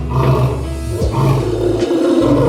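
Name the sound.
lion roaring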